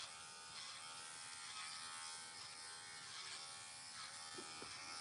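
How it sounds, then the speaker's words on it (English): Steady buzzing hum of an electric trimmer working on a Labradoodle's nails, close and continuous for the whole stretch with only slight shifts in tone as it is pressed to each nail. "This is a great little trimmer."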